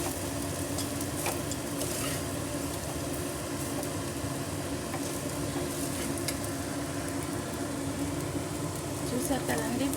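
Fried rice crackles and sizzles steadily in a hot pan while being stir-fried, with faint scraping of a spatula running continuously at moderate volume.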